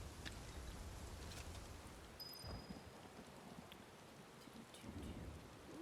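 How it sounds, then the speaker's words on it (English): Steady rain patters throughout a video game scene, a soft continuous wash with a few faint distant rumbles and no talking. "it's raining. That sounds so lovely."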